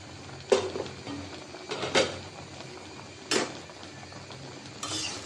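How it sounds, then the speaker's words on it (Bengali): Metal clinks and clanks as a lid is set onto a cooking pot of napa greens in a home kitchen, a few sharp separate knocks spread over several seconds against quiet background. "এখন যে ঢাকনা দিয়ে রাখলাম।"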